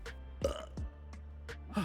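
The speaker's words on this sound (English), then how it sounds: "Burping all the way there." A Hogwarts Legacy character burps repeatedly in the video game, with several short, croaking belches spaced across the moment over a low background hum.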